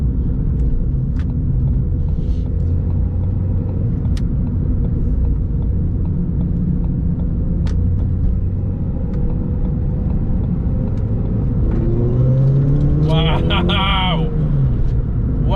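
A Ford Fiesta ST fitted with a Kaaz plated limited-slip differential pulls through a corner in second gear: a steady loud cabin engine rumble, rising revs near the end, and a brief excited exclamation over it.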